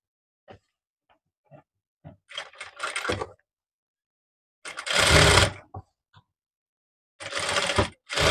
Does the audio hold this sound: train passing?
no